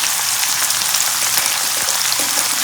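Shrimp frying with turmeric powder and salt in a pan, a loud, dense sizzle close to the pan that holds steady and even from start to finish, with no talking.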